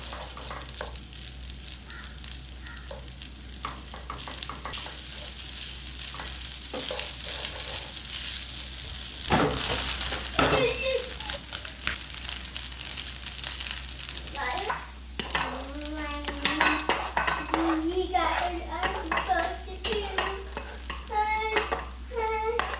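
Bacon and sausage spicy fried rice is stirred and tossed in a sizzling pan, with a constant fry under repeated scraping and clattering of the utensil against the metal, growing busier and louder in the second half.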